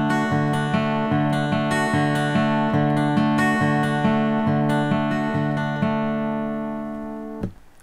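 Finger-picked acoustic guitar pattern, beginner exercise number five, with plucked notes repeating in an even, looping rhythm over a ringing chord, close and clear, fading at the end.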